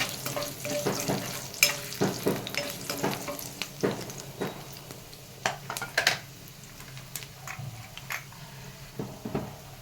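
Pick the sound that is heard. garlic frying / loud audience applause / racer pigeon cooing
garlic frying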